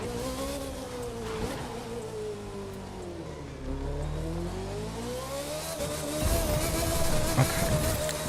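A Formula 1 car engine in the racing video game The Crew 2 drones and shifts pitch steadily, rising and falling as it revs, with a rougher surge near the end and faint hiss underneath.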